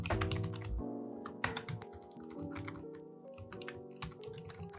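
Rapid typing on a computer keyboard while writing code, dense clusters of close, crisp key clicks with brief pauses and no talk.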